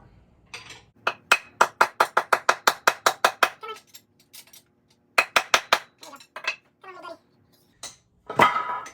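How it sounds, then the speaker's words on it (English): Metal piston parts clink as the last piston is pulled from an engine during a teardown, a rapid run of about a dozen sharp, close ringing taps, then a pause and several more scattered clinks and a short scrape. "This is the last one, the last piston coming out."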